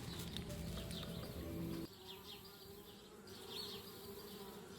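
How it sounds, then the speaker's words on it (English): Bees buzz steadily around a hive in the point-and-click game Anna's Quest, a close insect drone that thins slightly partway through and then carries on alone. "Darn bees, trying to move into our treehouse."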